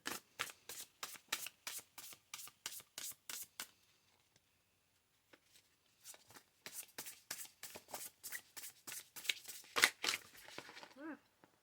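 An oracle card deck is shuffled in rapid, regular riffles of crisp card snaps, two bursts separated by a short pause, close and fairly quiet, with no talking.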